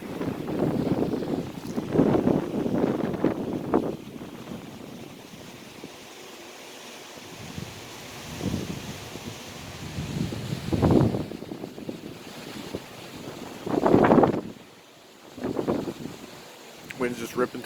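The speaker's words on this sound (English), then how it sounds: "Wind's just ripping through these palm trees." Storm wind gusts through palm trees, a steady roaring whoosh with rising and falling bursts. Someone talks intermittently over the blowing, which stays fairly faint and constant.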